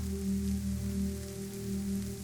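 Gentle rain falls steadily under a low, humming tonal drone, forming a soft, even wash of sound with no voices.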